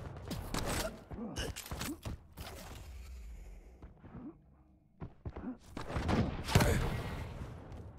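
Rocket fire and explosions in a Quake cup match, several bursts and thuds scattered across the span with a loud cluster near the end, mixed with footsteps and game effects.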